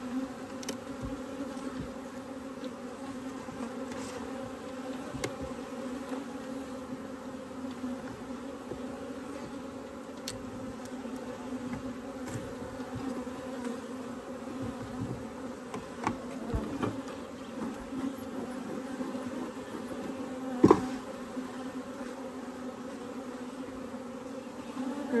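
Dense steady buzzing of many honey bees at close range while a swarm trap is transferred to a new hive, continuous throughout with faint handling knocks and no talk.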